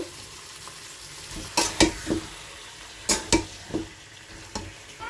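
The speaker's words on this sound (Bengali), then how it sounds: "এবার চিকেনটা দিয়ে দিচ্ছি পেঁয়াজটার মধ্যে এটা একটু চিকেনটা হালকা করে আমি এর মধ্যে ভেজে নেব" Chicken pieces frying with onions in a pan, a steady low sizzle broken by a few sharp utensil scrapes and knocks as the food is moved around.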